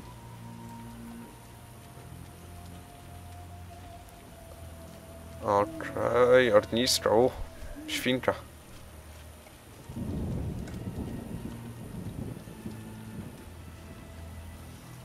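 A rain and thunderstorm in The Witcher 3 video game brings a soft, steady patter of rain with low rumbles of thunder, while someone talks over it in a casual commentary voice.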